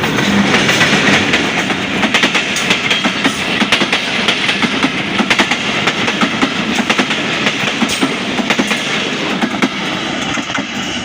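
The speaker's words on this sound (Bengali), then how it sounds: "WDM-2B এলকো ডিজেল লোকোমোটিভ দিয়ে যাত্রা করছে।" Passenger train hauled by a WDM-2B ALCO diesel locomotive, no. 6412, running past close and loud with a steady rumble and rapid rhythmic clickety-clack of wheels over rail joints for the whole stretch.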